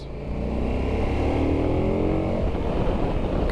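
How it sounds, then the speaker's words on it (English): A KTM 1290 Adventure motorcycle engine revs loud and close, its pitch rising steadily and holding high for a few seconds. "This is a very powerful engine indeed."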